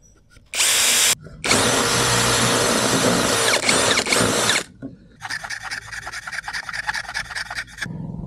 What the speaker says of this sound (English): Let's just drill a couple of holes.